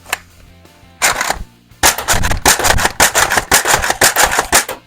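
An X-Shot Pro Longshot toy blaster fires its included foam darts in a quick run of sharp, loud cracks with short gaps, close by, preceded by a single softer pop and a brief pause.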